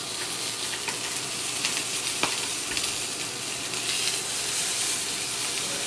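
A rack of lamb sears in a cast iron pan, its fat crisping with a steady, close, broadband sizzle and spitting that runs without pause, a few sharper pops and crackles breaking through, and no talking.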